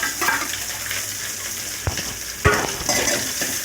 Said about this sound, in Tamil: கடுகு பொரியவும் கருவேப்பிலை போட்டுக்கலாம். வதக்கிக்கலாம். வெங்காயத்தை போட்டுக்கலாம்.